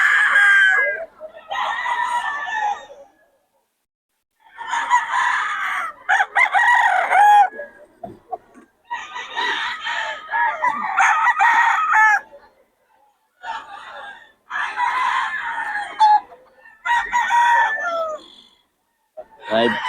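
A young gamecock, a bullstag, crows at a rooster market in Bocaue, with loud repeated crowing and clucking bursts from nearby birds separated by short pauses.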